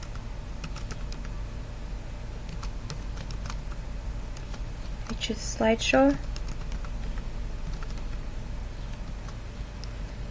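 Light, rapid keystrokes tapped on a computer keyboard, a quiet pattering behind someone speaking, with a brief louder burst of typing midway.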